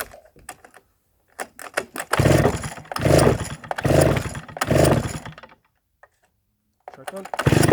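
A Stihl 08S chainsaw being started: several short rustling pulls are followed by four loud, rough bursts of the engine catching and dying. Each burst lasts about a second, then silence and another pull.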